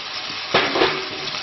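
Rabbit meat stir-fried in a wok gives a close, loud sizzle, with a sharp burst of hiss and scraping as the meat is tossed midway, then a steady fry.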